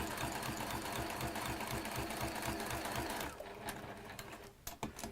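A sewing machine fitted with a walking foot stitches fabric steadily and continuously for about three seconds, the fabric guided along curved lines, then the motor winds down into a quieter stretch broken by a few small clicks.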